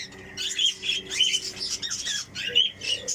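A pet parrot gives a rapid series of harsh, raspy squawks and chirps, close and fairly loud, in short repeated bursts with brief gaps between them.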